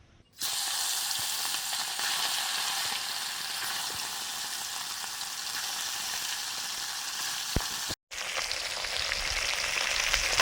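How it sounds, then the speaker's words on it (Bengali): Fish frying in hot oil in a wok over a lit stove, a steady loud sizzle running throughout with one brief dropout near the end. "মাছগুলো ভাজবো এবারে। কড়াতে তেল দিয়ে দিয়েছি"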